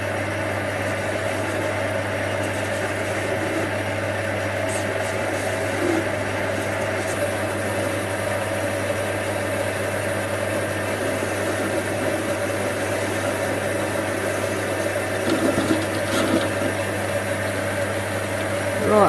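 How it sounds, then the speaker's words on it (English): A small Chinese lathe cutting the edge off a spark plug part, a steady motor hum with a constant tone and faint scraping from the cut, close and unbroken throughout. "now we'll just take that edge off with the mighty Chinese lathe"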